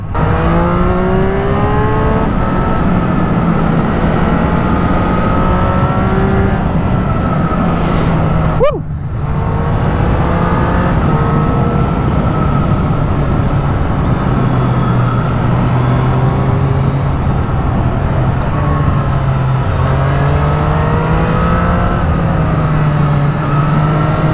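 Motorcycle on a ride, its engine loud and close throughout, revving up and down through repeated gear shifts over constant wind noise, with one brief dip midway and no speech.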